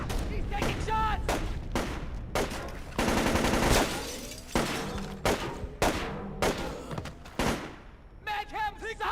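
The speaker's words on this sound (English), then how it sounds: "He's taking shots!" Rapid gunfire rings out in the stealth video game Splinter Cell Chaos Theory, with dense overlapping shots, bursts and impacts throughout, and voices shouting in the game among the shots.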